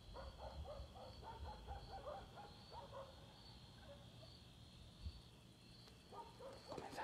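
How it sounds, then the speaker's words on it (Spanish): Dogs bark at night outside an abandoned house, a run of repeated barks that are somewhat distant and fairly faint, over a steady insect-like drone with a few louder barks near the end. "Comenzaron los perros a ladrar muy drásticamente"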